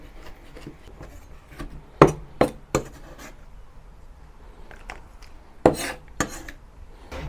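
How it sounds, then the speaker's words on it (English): A tomato is cut by hand with a knife on a board for a beef goulash, giving a few sharp, separate chopping knocks close by, with quiet scraping between them and no talking. "since today I'm only making 1 kilo of goulash, so I will cut the tomato manually"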